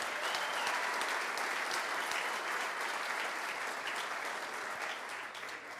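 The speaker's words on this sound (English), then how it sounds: "let's give him a round of applause" An audience gives a round of applause at the Missouri Athletic Club's Hermann Trophy event, with thick, steady clapping that holds for several seconds and eases slightly at the end.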